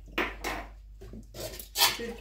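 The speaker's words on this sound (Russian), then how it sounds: "Теперь куча посуды после мамки." Dishes and pots clatter in a home kitchen sink after a breakfast of semolina porridge, with a few brief, close clinks and knocks spaced out over a couple of seconds.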